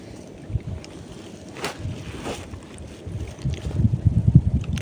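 Strong wind rumbles and buffets the microphone outdoors while fishing, a low roaring gust that swells louder toward the end, with faint water sloshing beneath.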